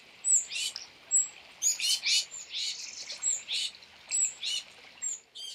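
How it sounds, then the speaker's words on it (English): A young tufted titmouse fledgling gives repeated raspy squawks in a steady pulsing rhythm, mixed with thin high chirps, close by and with no voices. "urged on all the while by the fledgling squawks."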